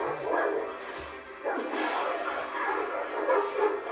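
Dogs bark and growl during a Game of Thrones battle scene, Battle of the Bastards, a dense run of bursts over a steady background rumble.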